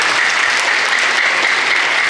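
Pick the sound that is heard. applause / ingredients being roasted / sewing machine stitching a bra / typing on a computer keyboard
applause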